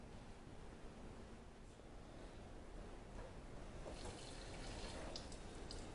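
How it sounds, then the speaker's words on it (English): Water pours steadily into a cooking pot to cover chicken for green chile enchiladas, a continuous low rushing splash close by that grows slightly fuller toward the end, with no talking. "So I'm putting water in here right now"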